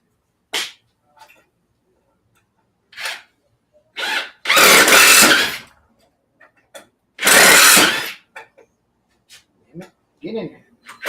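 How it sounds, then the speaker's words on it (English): Power drill driving screws into pallet wood for a scrap-wood garden bench, heard as several short whirring bursts with two longer, louder runs, separated by quiet gaps and brief mechanical clicks. "let's run some screws on this other side"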